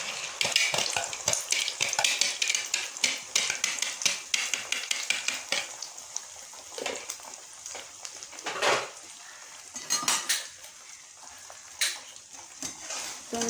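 A beaten mixture of egg, onion, green chilli and salt fries in a pan and is stirred, with a bright crackling sizzle and repeated utensil scrapes, strongest early and easing into softer intermittent stirring.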